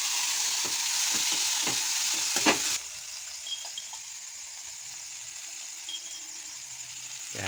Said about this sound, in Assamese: গোটেইখিনি ভাজি ল'ম গোটেইখিনি।